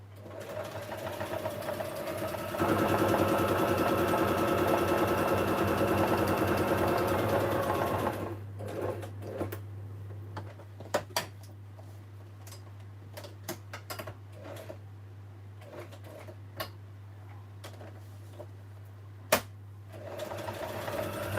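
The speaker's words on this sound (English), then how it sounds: "I'm just sewing really roughly. It's not overly straight because I'll probably end up distressing the edges as well." A sewing machine runs in a steady loud whir for about eight seconds, stitching fabric for a quilt roughly and not quite straight, then stops and leaves only scattered faint clicks and handling noises.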